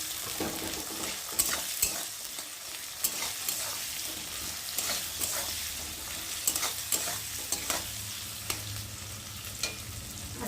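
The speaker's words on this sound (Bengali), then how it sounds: "আর এখন দেব কুচিয়ে রাখা পেঁয়াজগুলো দিয়ে ভালো করে ভেজে নেব" Chopped onions fry in a hot pan with a steady, close sizzle, broken by frequent sharp scrapes and taps from a spatula stirring them.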